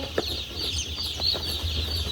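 Newly arrived chicks chirp in quick, bright bursts as they are set down one by one on the bedding inside a brooder ring on a chicken farm, over a steady background hiss.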